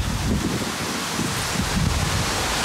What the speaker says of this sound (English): Apologize for the wind